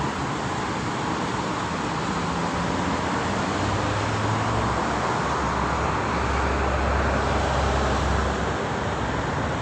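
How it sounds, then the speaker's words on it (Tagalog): Heavy road traffic outside in Dubai at night, a steady dense roar of passing cars and engines that holds at the same level throughout, with no gaps or distinct single vehicles standing out. "Daming sasakyan."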